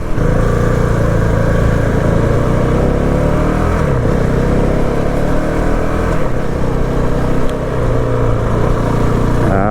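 Honda CRF450RL dirt bike ridden through a downtown area at low speed in third gear, its engine a steady, close, loud drone with mild rev changes throughout.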